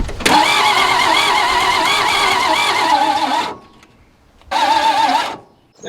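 An abandoned 1961 Ford Falcon engine cranks in two bursts: a long whirring starter run of about three seconds, a pause, then a shorter crank, close and loud, without catching.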